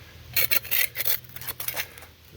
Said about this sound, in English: Scraping that stuff right off the top of that bedrock.